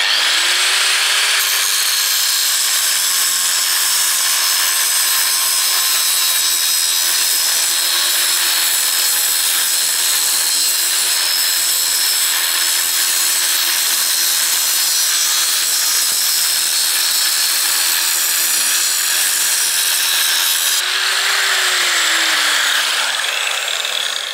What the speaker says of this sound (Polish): duża szlifierka kątowa nawet nie mam tarczy do betonu tylko to jest zwykła tarcza do stali